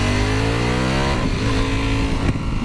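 A Ducati Panigale V4 motorcycle engine revs loudly and close, its pitch climbing as it accelerates, then dropping as it shifts and winds up again, heard alone.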